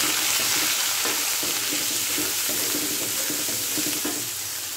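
Ground cumin, ginger, garlic and onion pastes fry with chicken for a Bangladeshi broiler chicken curry, giving a steady, dense sizzle and hiss that runs unbroken and close throughout.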